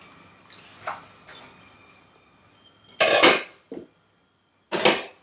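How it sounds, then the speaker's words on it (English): Spoon stirring Persian gheymeh stew in a pot, giving a few short scraping clinks against the metal, three louder bursts near the end over a quiet kitchen background. "You stir it."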